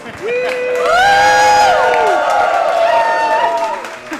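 Live crowd at a Zelda: A Link to the Past speedrun event in Minneapolis cheering and whooping loudly, a sustained swell of voices with rising shouts lasting several seconds.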